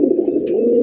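A Lahori pigeon coos close by, a low, steady rolling call heard on its own.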